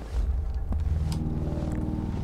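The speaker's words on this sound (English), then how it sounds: "Sounds like a drone." An enemy drone in the video game Generation Zero flies overhead as a steady, low mechanical hum and drone. It stays loud and close throughout, with a faint breathy wash on top and no speech.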